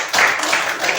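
Classroom applause: a brief, dense burst of many hands clapping together at close range, steady for about a second.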